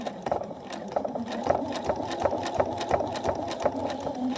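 A sewing machine stitches quilt binding in a steady, rapid mechanical rhythm, its needle thumping close and moderately loud with a faint whir underneath.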